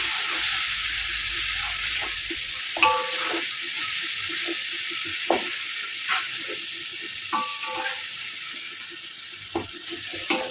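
Masala and onions frying for Palakkad-style beef leg biryani, a constant hissing sizzle with occasional sharp scrapes and knocks of a stirring spoon against the pot.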